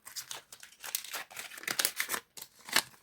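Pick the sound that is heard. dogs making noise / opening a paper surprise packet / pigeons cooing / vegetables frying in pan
opening a paper surprise packet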